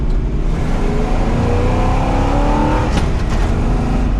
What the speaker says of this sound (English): slipped the clutch that whole time